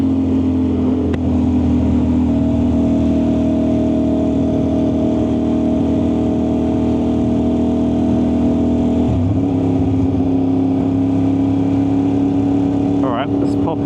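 An Aprilia RS660 sport motorcycle is ridden with a loud, steady engine and exhaust drone that holds close and constant, dips briefly partway through and ends with a quick rising rev.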